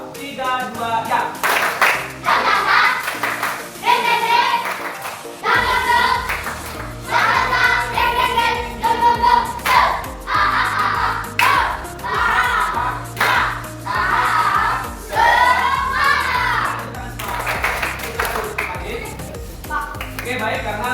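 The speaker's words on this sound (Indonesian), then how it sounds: "Sekarang tepuk semangat versi 2." Fourth-grade schoolchildren doing a second version of a rhythmic clapping chant in class, repeated patterned claps interleaved with loud chanted singing and a teacher's voice, close and energetic over a long stretch.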